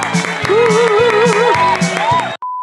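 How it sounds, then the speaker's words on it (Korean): A church congregation claps together in celebration during a Sunday worship service, a steady dense burst of applause with some voices and cheering mixed in, ending abruptly. "제가 준비 시작하면 우리 다 같이 박수로 축하하도록 하겠습니다"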